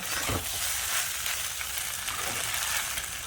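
Pasta frying in a pan with salt while being stirred with a spatula gives a steady, close, continuous sizzle with a soft scraping texture throughout. No one speaks.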